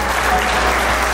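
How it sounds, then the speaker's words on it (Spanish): A crowd at a quinceañera reception gives a big round of applause, loud, close and continuous over a steady low hum, with no voices heard. "dale un gran aplauso."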